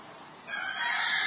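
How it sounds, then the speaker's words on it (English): Rooster crowing once, a single drawn-out, rising call that grows louder toward its end, heard alone with no talking. "Chicken?"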